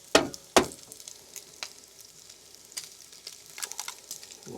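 Eggs cracked into a bowl make two sharp, close shell cracks in quick succession, followed by soft wet dribbles and light clinks as the contents settle.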